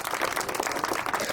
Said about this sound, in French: Vous pouvez quand même l'applaudir pour le motiver.